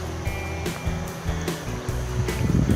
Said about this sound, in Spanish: Esto es como un arroyito, no deja de pasar agua, muy bonito.